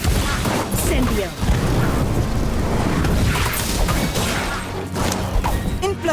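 Incendio fire spell cast in the Harry Potter Magic Awakened game, with loud crashing booms and bursts in a dense, chaotic battle mix under game voices and talk.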